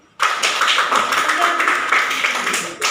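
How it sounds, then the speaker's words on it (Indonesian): Classroom of students clapping hands in a German-language lesson, loud dense applause starting suddenly and continuing steadily for over two seconds before cutting off, with a few voices mixed in. "Baik, tepuk tangan dulu."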